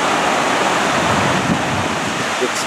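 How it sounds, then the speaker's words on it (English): A creek rushes steadily at close range, a dense, even wash of flowing water with no pauses and no talk over it. "And that's a creek, you guys."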